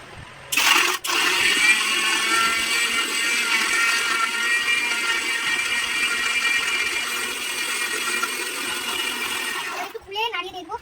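Kitchen mixer grinder blending a thick mixture without water, loud and steady whirring for roughly nine seconds after a brief start-up burst, then cutting off abruptly.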